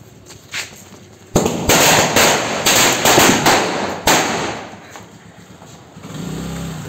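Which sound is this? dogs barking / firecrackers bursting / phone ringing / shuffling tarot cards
firecrackers bursting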